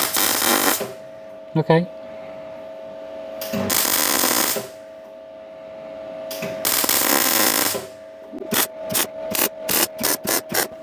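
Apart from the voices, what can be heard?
welding on a Daihatsu Charade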